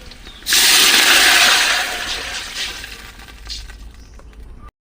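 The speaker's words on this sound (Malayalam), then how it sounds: "ഇനി അടുത്തായിട്ട് വെള്ളം ഒഴിച്ചു കൊടുക്കാം" Water pours into a pot of rice in a loud, rushing gush that starts abruptly, then tapers to a softer trickle and stops.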